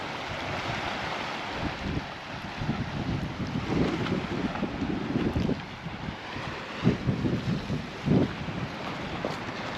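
A small fishing boat out on the sea off the Mallorca coast near Illetas, heard as a steady motor and water wash under strong wind noise across the microphone, with occasional louder swells and no talk.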